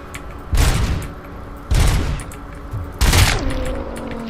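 Three heavy gunshots from the RoboCop sidearm in RoboCop Rogue City, each a loud booming blast spaced about a second apart, with a low mechanical whir trailing after the last shot.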